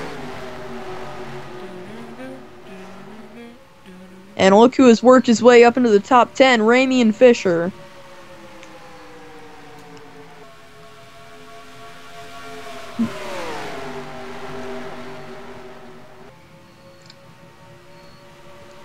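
Race cars circle the track at Kansas, their engine notes droning and sweeping up and down in pitch beneath steady race commentary.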